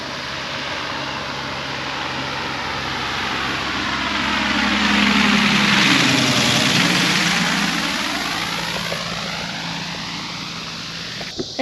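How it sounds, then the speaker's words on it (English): A propeller airplane flies in to land near Lake Bentonville on a hot day, its engine drone swelling loud as it passes overhead with a clear pitch drop, then fading as it moves away. "Yeah, a plane coming in."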